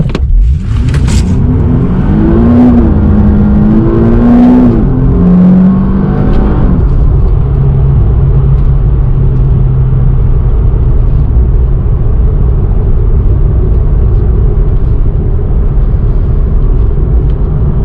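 A Nissan 370Z base coupe engine revs hard toward 7,000 RPM with traction control off and manual shifting, a loud, close rising drone that drops at a shift, then settles into a steady heavy rumble.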